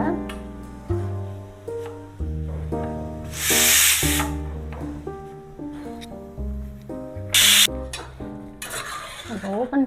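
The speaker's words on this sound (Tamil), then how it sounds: "ஸ்டவ்வை வந்துட்டு ஆஃப் பண்ணிட்டு உள்ளே இருக்கிற அந்த ஆவியை வந்து எடுத்து விட்டுடலாம்" Steam vents from a pot of tomato dish after the stove is switched off, in short loud hisses that burst out a few times over steady background music.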